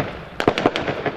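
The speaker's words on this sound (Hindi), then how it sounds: "डाकू के दरमियान फायरिंग का तबादला शुरू हो गया है" Staged gunfire exchange between police and bandits at a police college assault demonstration, heard as several sharp cracking shots in quick irregular succession over about a second, fairly distant and outdoors.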